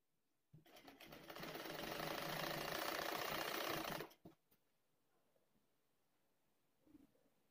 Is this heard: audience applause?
no